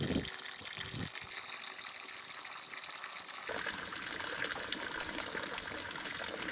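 Water pours steadily into a quart jug, a continuous gushing flow that shifts in tone partway through as the container fills, with no voices.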